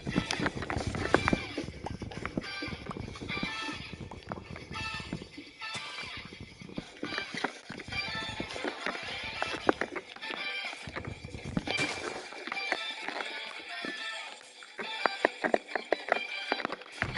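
Skeleton horses in a Minecraft-style game make a busy mix of hoof clopping and movement noises, with occasional whinnies and scattered game sounds over a long stretch.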